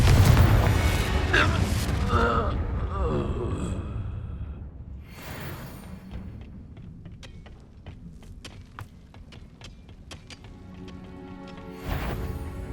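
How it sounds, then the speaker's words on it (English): Bombarda and Confringo spells explode in Hogwarts Legacy combat: a heavy, booming blast up front, then a quieter stretch of clicks, debris and small impacts, and another sharp burst near the end, with a shouting voice at the start. "Bombarda! Confringo!"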